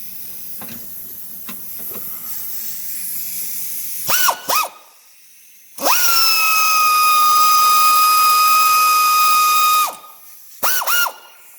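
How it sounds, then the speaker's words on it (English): An air ratchet works on a starter bolt of a Nissan, with bursts of pneumatic hiss and whirring, one long sustained run in the middle and short blips before and after, loud and close. "I'm going to use an air ratchet to get the rest of the way off"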